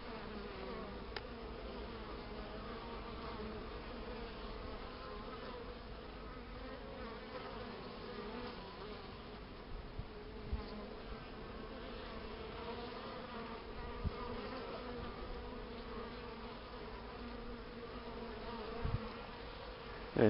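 Steady droning buzz of honeybees flying nearby in winter, continuous throughout with a few faint clicks and no talking.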